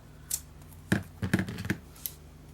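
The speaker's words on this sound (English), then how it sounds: "your scissors will cut through it much easier" Close, quiet snips of scissors cutting through foam tape, several short crunchy cuts in a brief cluster, then one faint click.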